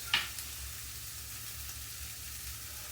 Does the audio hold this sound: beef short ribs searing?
yes